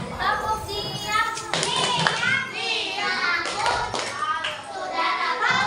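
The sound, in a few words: children clapping a classroom clap routine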